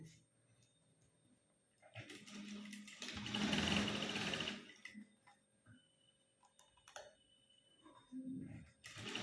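A sewing machine stitches a blouse neckline in short bursts, with one longer whirring run in the middle and brief pauses between runs. Faint ticking and handling noises fill the gaps.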